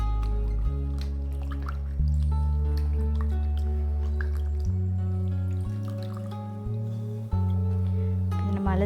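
Sliced potatoes for chips are rinsed and drained in water, with scattered drips and small splashes over a loud, steady humming drone that shifts in pitch a few times.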